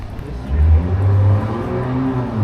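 An engine revs and rises in pitch as a motorcycle passes close by, a loud throaty drone that lingers and fades slightly.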